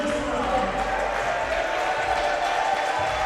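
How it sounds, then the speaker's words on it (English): Crowd at a basketball dunk contest during a midnight madness event in Toronto, a steady roar of cheering and clapping filling the gym, with a commentator talking over it throughout. "Got the crowd cheering him on."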